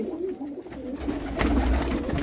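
Pigeons for sale in Jammu, including breeder birds, coo softly in repeated throaty calls close by, with a low rumble of background noise.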